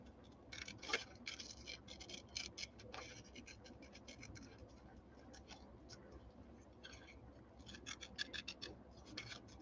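Scissors snip through paper to cut out a teacup handle, quiet repeated crisp snips and scratchy rustles in irregular bursts, close and faint.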